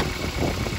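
A car engine idles steadily under the hood during a garage ground-fault check, a continuous low rumble with slight vibration throughout, close and moderately loud, with no talking.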